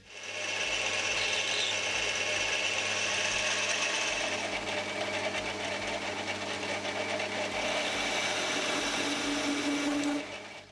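A manual lathe cutting a shallow 30-degree chamfer, heard as a loud, steady whine and scraping whir that runs for about ten seconds before stopping, with no voices.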